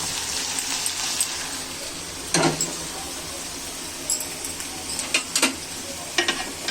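Hot oil is poured into a pan and sizzles, a continuous bright hiss with a few sharper spatters and scraping bursts, close and fairly loud, no one talking.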